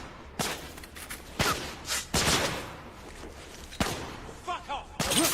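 Combat in the video game The Order: 1886, with smoke grenades thrown amid fighting: sharp bangs, thuds and bursts of gunfire at irregular intervals, with brief shouted voices in between.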